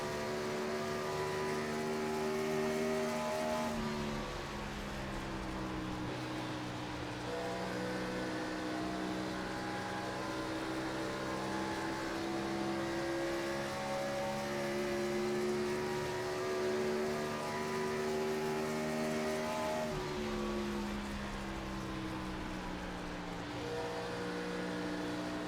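Gen 4 NASCAR race car from the iRacing game at Homestead Miami, its engine droning steadily with harmonic pitch sweeps as it lifts off and gets back on the throttle through corners, loud and continuous with no talking.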